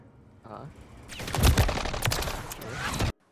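Gunfight in the video game Call of Duty MW3 ranked play: a near, loud rapid burst of automatic gunfire rattles for about two seconds, then cuts off abruptly.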